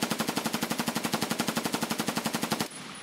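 MK47 Mutant rifle firing full-auto in Tarkov, a rapid, evenly spaced burst of about twenty loud shots that stops abruptly, leaving a brief quiet tail.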